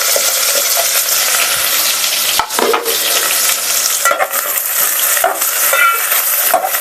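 Long-sliced onions sauté in an oiled pan for bagara rice and chicken curry, a steady loud sizzle broken by scraping stirs of a spoon against the pan.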